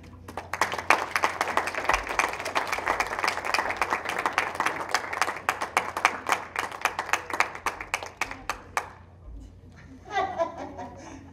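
An audience claps steadily for several seconds with scattered laughter, the clapping thinning out before a voice starts talking.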